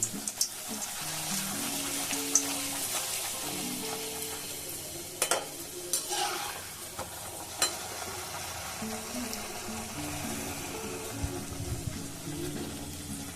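Mung dal kachori frying in hot oil over a high flame, a steady soft sizzling hiss with occasional taps and clinks of a utensil, a faint muffled voice underneath.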